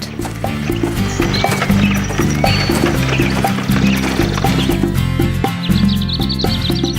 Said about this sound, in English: He also had a horse that was very lazy and always avoided work.